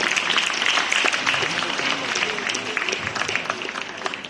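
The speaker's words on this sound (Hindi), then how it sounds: "ताली बजाए बिना तालियों में कंजूसी में" An audience claps at a Diwali fancy-dress distribution ceremony in Pushkar, dense sustained applause from a crowd, fairly loud and close, with a voice speaking over it.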